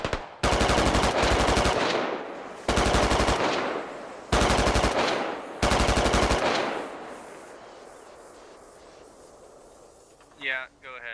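Machine gun fire in the military shooter game Squad, four long loud automatic bursts separated by short pauses, echoing off before a quieter tail, with a voice speaking over the action.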